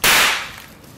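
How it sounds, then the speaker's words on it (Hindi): A single sharp crack with a bright, hissing burst that decays over about half a second, like one gunshot heard up close. "एंड में करण को उन पर गोली चलानी पड़ी"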